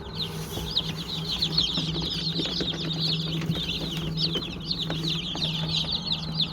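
Hens and chicks clucking and peeping steadily, a dense chorus of high chirps over low clucks, close by with continuous farmyard bustle in spring.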